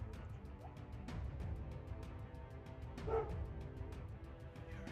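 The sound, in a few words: dog barking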